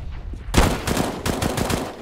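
AK rifle fire in CS:GO, a fast burst of loud close shots starting abruptly after a quiet moment and continuing in a rapid, steady rhythm to the end.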